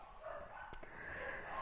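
Dogs barking in a faint pair of short, distant barks near the middle, set against a steady low background hum.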